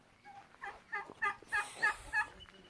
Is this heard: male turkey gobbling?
yes